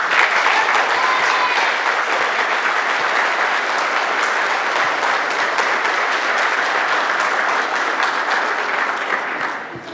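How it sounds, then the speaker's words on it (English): A crowd of military spouses and guests at a Marine Corps ball claps steadily in a large hall, dense sustained applause holding for about ten seconds before easing slightly at the end. "Please give the spouses a round of applause."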